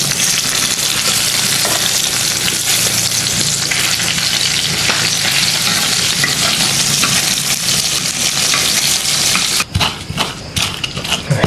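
Loud, steady sizzling of jengkol frying in a pan, a continuous crackling hiss that fills the whole stretch, with a few clattering stir sounds near the end.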